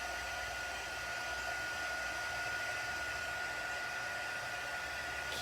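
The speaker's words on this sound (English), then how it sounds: "So I'm just heating this, just moving it just a little bit." A heat tool blows a steady, even whoosh of hot air while melting embossing powder on a handmade autumn card, the loud broadband roar continuing unbroken throughout with no talking.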